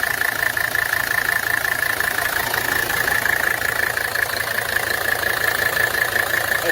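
An OM617 diesel engine in a TJ Wrangler runs steadily at idle, a close, even exhaust rumble with a constant clattering texture and a faint high whine, unbroken throughout.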